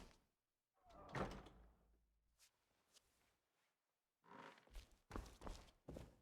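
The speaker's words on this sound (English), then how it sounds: "Shut the door" A door in Skyrim's Rigmor of Cyrodiil quest thuds shut with a heavy knock, followed after a quiet pause by further wooden clatter and bumps close by.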